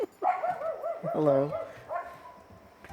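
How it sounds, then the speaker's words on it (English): Dog barking indoors at night, one of two excited dogs, giving a series of yelping, tonal barks close to the microphone, with a person's voice briefly heard. "Listen to that bark."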